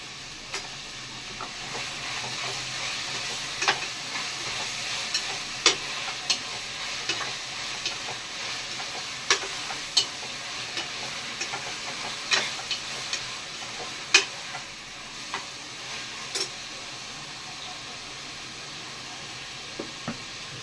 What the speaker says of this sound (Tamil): இப்போ இஞ்சி பூண்டு பேஸ்ட் போட்டுக்கணும்